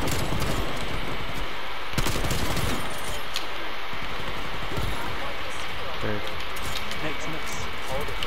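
Rapid gunfire in a Call of Duty-style Hardpoint multiplayer match, dense bursts of shots running almost nonstop and loud, with players talking over the fighting.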